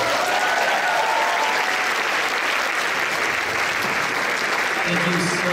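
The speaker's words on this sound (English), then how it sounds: "One more round of applause, please." Sustained audience applause following a keynote address at the 2014 YJA Convention, a broad, unbroken roar of clapping at constant level with faint voices mixed in near the end.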